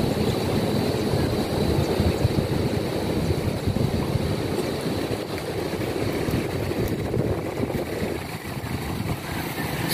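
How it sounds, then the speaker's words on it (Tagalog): Big sea waves on a stormy day wash against the end of a seawall, a continuous loud roar of surf mixed with heavy wind noise on the microphone. "sobrang laki ng alon."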